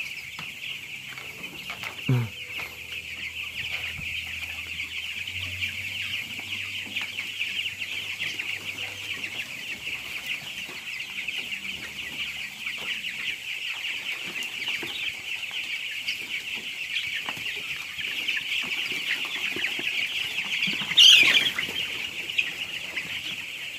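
Broiler chickens cluck steadily over a constant high farmyard hum, with a brief louder flutter near the end; no talking.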